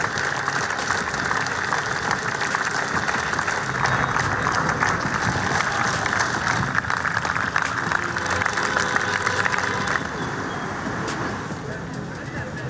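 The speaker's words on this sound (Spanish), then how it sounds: "Afuera lo despidieron con aplausos" A crowd applauds outside the Buceo cemetery at the burial of Eduardo Bonomi, a sustained wash of clapping mixed with passing traffic, with a voice speaking over it before the applause thins near the end.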